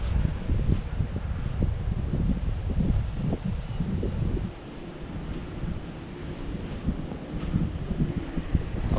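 Strong wind buffets the microphone outdoors while an MJX Bugs 3 Mini drone flies among trees, a loud low rumbling roar that eases slightly midway but never stops.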